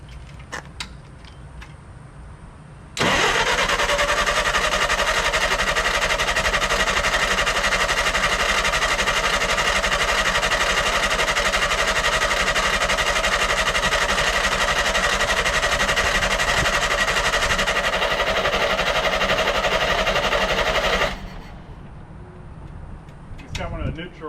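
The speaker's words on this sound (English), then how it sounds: "So let's see if it'll start. We're gonna try a full choke." A 1964 Clark Clipper forklift engine on full choke catches abruptly and runs loud and steady at close range for about eighteen seconds with a busy mechanical clatter, then cuts off.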